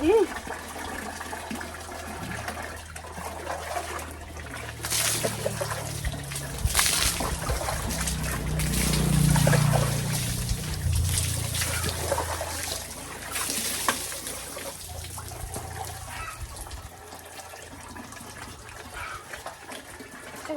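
Water runs and splashes steadily, loudest in the middle, while people talk over it nearby.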